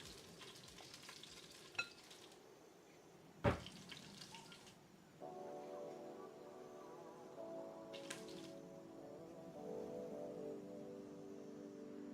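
Chicken frying in a pan, a steady soft sizzle with a sharp clatter partway through and a low hum starting midway, quiet and with no talking.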